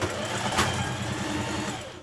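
Sewing machine stitching together the edges of a fabric belt for a summer jumpsuit, a steady rapid mechanical whir with fast rhythmic needle clatter, close and continuous.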